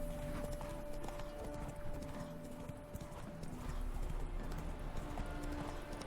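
Geralt's horse Roach clip-clops at a steady trot in The Witcher 3, hoofbeats close and continuous over game music, with an occasional neigh.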